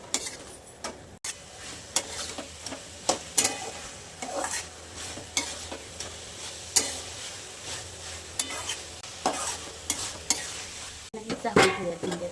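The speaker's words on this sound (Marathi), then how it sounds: "ते तळून घेतलेली भेंडी ह्याच्यात टाकून घेणार आहे" Fried okra being stirred into sizzling masala in a pan for dahi bhindi, with a soft continuous sizzle under repeated sharp taps and scrapes of a spoon against the pan.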